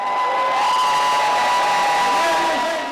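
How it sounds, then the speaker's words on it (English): A crowd of fans roars and cheers steadily as a retired NFL star walks on stage at an awards event, a dense, loud wash of voices sustained throughout. "with the crowd roaring for their GOAT"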